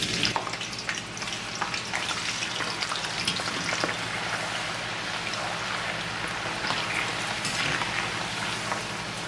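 Salted vegetable pieces deep-fry in hot oil, a dense, continuous crackle and sizzle like heavy rain, holding steady throughout with scattered sharper pops.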